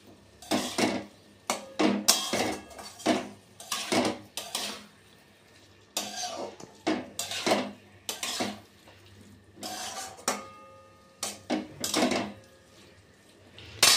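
Lau ghonto, a bottle gourd curry thickened with flour, stirred in a pan, with a spoon scraping and clanking against the metal in repeated bursts of close, irregular strokes separated by brief pauses.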